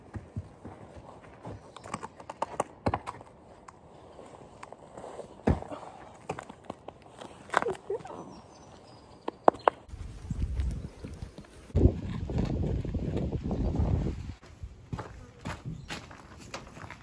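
A horse being brought back into work walks with steady, moderately close hoof clip-clops, joined by louder rustling and scuffing toward the end.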